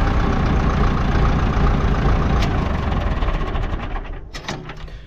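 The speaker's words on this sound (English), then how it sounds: "As soon as you turn this ignition, it starts cranking the engine over." Massey Ferguson 178 tractor diesel engine running close up at a loud, steady idle with a dense low rumble, then tapering and sputtering as it winds down near the end.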